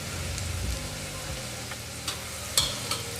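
Finely ground masala fries in hot oil for Kolhapuri misal, a steady close sizzle with a low rumbling bed and a few light scraping stirs toward the end, without talk.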